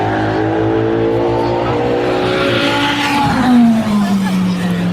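Race cars on the Mulsanne straight braking and accelerating, engines wailing close by with pitch rising and then falling sharply as one car passes, with a brief tire scrub and a commentator talking over the noise.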